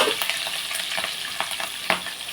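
Green chillies hit hot oil and sizzle, a bright, crackling fry with small pops and stirring clatter, close and continuous.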